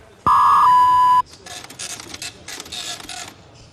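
A loud steady electronic tone over an ordinary phone line starts abruptly, holds for about a second, then gives way to bursts of hissy, warbling coded data noise.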